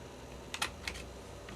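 A crocodile corner chomper punch, half-inch size, rounds the corner of a coloured card with two or three quick, faint clicks and snaps close by in an otherwise quiet room.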